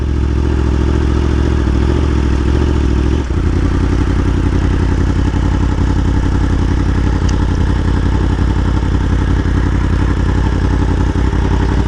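A Yamaha R1M motorcycle engine running steadily while riding, a loud continuous drone with a brief dip early on, close and alone with no talk.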